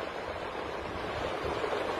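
Strong wind blows at a beach, a steady broadband roar and buffeting mixed with the wash of nearby surf, continuous and fairly loud throughout.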